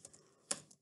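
Soft keystrokes on a computer keyboard, a few faint taps with one sharper click in a short quiet stretch.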